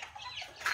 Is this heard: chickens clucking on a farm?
yes